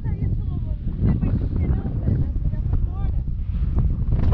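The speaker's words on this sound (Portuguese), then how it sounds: "Tem que estar ventando muito." Strong wind buffets the microphone on a fishing trip by the water, a continuous low rumbling roar under people talking throughout.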